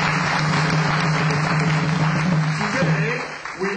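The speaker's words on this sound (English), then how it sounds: "give yourselves a hand of applause" Audience applause at a World Bank Group event for a traditional Igbo libation ceremony, a steady wash of clapping lasting a few seconds with voices mixed in, easing off near the end.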